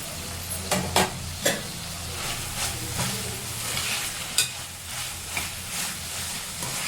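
Green beans and mint leaves sauté in a pan for paneer biryani, a soft sizzle under scattered clicks and scrapes of stirring, quiet and close.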